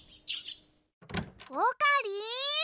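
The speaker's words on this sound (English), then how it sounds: "You hear the tweeting of small birds outside the window." Small birds tweet outside a window in a quiet morning scene, a few brief high chirps near the start before a sliding sound and a voice speaking over the rest.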